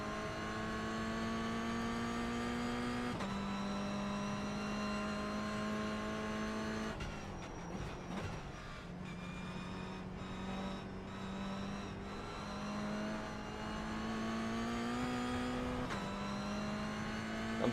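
A car engine in a racing video game howls at high revs, with several gear shifts marked by brief drops in pitch before it climbs again, steady and loud throughout.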